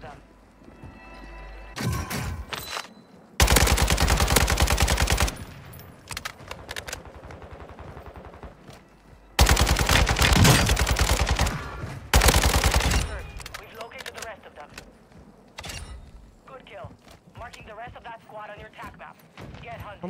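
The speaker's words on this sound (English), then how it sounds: "Fire rate on this ISO is literally like insane." An ISO submachine gun fires in the Warzone video game in two long, loud rapid-fire bursts with shorter bursts in between, while game effects and movement sounds continue around them.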